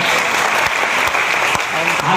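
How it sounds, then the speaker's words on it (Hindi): An audience at an Independence Day magic show claps loudly in a dense burst of applause, close and continuous for a couple of seconds. "जोरदार तालियां"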